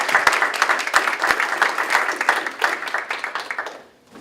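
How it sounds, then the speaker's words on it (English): A round of applause at a senate meeting, steady dense clapping from a room of people that continues for about four seconds and then tapers off near the end. "give a round of applause for that"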